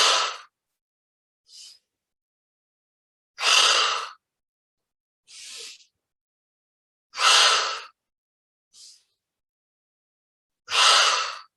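Deep inhales and exhales during a guided centering meditation breathing exercise, four long breathy exhales alternating with shorter softer inhales, close and clear against silence, no talking.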